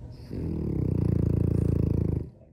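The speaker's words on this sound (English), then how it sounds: "That snoring little cutie is 5-year-old Luca" A five-year-old French bulldog snores in a steady, close rhythm of rapid pulsing snorts, loud and continuous for about two seconds, with no voices over it.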